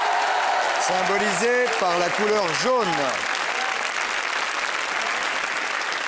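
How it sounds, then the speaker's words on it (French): A studio audience applauds children on a French TV quiz show, steady clapping running under a presenter's voice that speaks over the first half, then carrying on alone. "applaudissements les gars"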